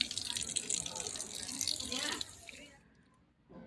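Water runs steadily at a temple foot-washing place beside the Brahmani river, a close splashing flow with talking over it that fades out near the end.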